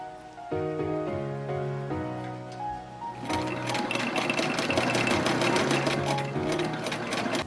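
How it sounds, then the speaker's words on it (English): A sewing machine stitches fabric along a pipe cleaner for a face mask. It starts with a steady mechanical whir, then runs faster and louder in a dense rapid chatter, continuous and close, with no talking. "I'm going to turn the material and sew the rest of the length of the pipe cleaner"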